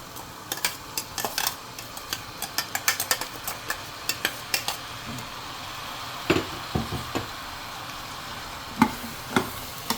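Vegetables stir-fried with ground masala in a pan, a soft steady sizzle under repeated scraping and tapping of a spoon against the pan, irregular and close, with no talk.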